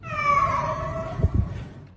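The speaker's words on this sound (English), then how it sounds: "it was making strange meowing sounds." A single drawn-out, wavering cat meow, close and clear, followed by a few soft thumps.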